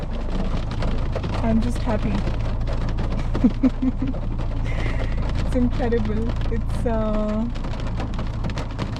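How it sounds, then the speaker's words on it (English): Heavy, pelting rain pours down in the mountains as a steady, close wash of noise, while a person speaks excitedly over it. "It is pelting. It is raining like mad,"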